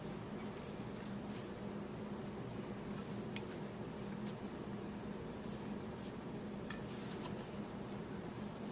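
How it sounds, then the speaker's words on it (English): A pen or pencil drawn along a straight edge, with faint, quiet scratchy strokes over a steady low room hum and a few soft ticks. "we get a straight edge, and we draw it all along there"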